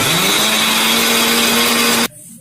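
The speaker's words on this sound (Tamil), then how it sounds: "இந்த ஒரு டம்ளர் கடலைப்பயிறு வடகரி செய்கிறதுக்கு ஊறின கடலைப்பருப்பு, கொஞ்சம் உப்பு, ஒரு 4 காஞ்ச மிளகாய் மிக்சியில் அரைக்க போகிறோம்" A kitchen mixer grinder runs at full power, grinding soaked chana dal with salt and four dried chillies. The motor roars loud and steady for about two seconds, then cuts off abruptly.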